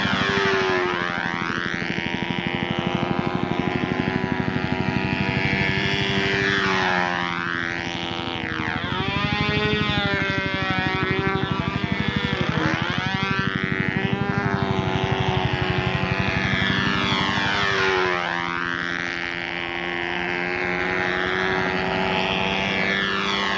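A Brodak Cardinal control-line model airplane flies circles with its small glow engine running unmuffled, a loud, continuous buzzing whine whose pitch and volume rise and fall in a steady cycle as the plane sweeps past.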